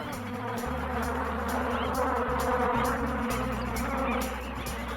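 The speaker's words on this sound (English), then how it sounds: "She tries a pit, but finds it full of bees." Bees buzz loudly and continuously nearby in a pit during drought heat, a dense swarm hum with shifting low drones and no voices.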